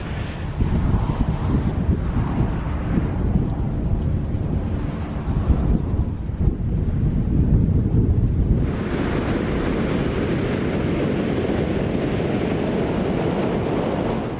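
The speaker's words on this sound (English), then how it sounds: "it started getting so windy, I was worried that the easel was going to blow over" Strong wind buffeting outdoors at a beach, roaring and gusting against the microphone throughout, loud and continuous, shifting to a steadier rush in the latter half.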